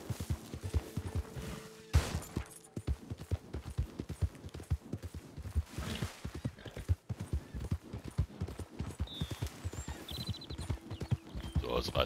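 Horse hooves clip-clop in a steady, rapid gallop while riding in Red Dead Redemption 2, continuous and close throughout, with someone talking over them and occasional gunfire-like bursts.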